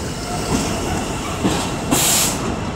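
A DB Cargo UK Class 66 diesel, number 66142, hauls an intermodal freight train past on the East Coast Main Line at Peterborough, giving a steady broad rumble with a brief hissing burst near the end.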